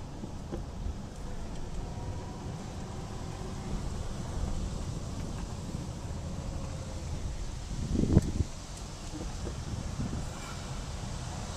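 Wind blows steadily at Silver Lake along Highway 158 toward Mammoth Lake, a broad continuous rush with one brief louder gust partway through.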